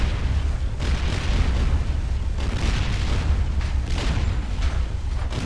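Cannon fire booms during a naval battle in the video game ArcheAge, a dense and continuous roar of overlapping blasts with a few sharper bursts standing out.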